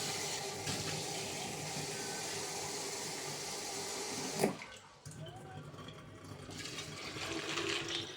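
Water runs steadily from a tap into a pot for cooking fava beans, a constant splashing stream, briefly interrupted by a clunk before flowing again.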